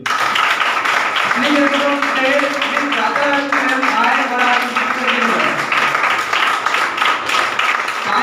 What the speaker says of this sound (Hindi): तो ताली स्टार्ट कर दीजिए।